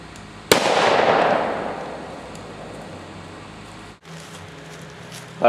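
A Glock 10mm fires into a frozen ham outdoors: one sharp, loud shot with a long, fading rumble, then a second brief crack at the end.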